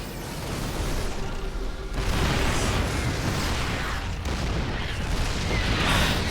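Siege tanks shelling in StarCraft 2 produce a continuous roar of heavy booms and explosive bursts, loud and layered, with no voices over the battle.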